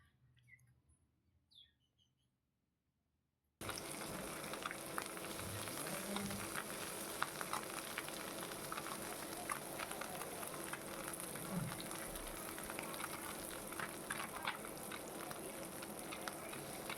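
Fish and mixed vegetables sizzle steadily in a frying pan, a loud continuous crackling hiss that starts abruptly after a few seconds of near silence and carries on alone to the end.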